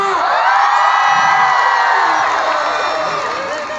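Large crowd of Filipinos at an outdoor concert at a Dubai festival venue, shouting, whooping and cheering loudly and continuously, fading slightly toward the end.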